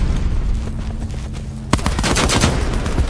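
Light machine gun fire in Call of Duty Black Ops 4, a quiet stretch of game ambience broken by a sudden loud, close burst of rapid automatic shots that rattles on to the end.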